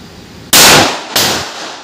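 Two loud, sharp .45 caliber pistol shots crack out at an outdoor firing range, each followed by a short ringing decay, spaced roughly half a second apart with no talking.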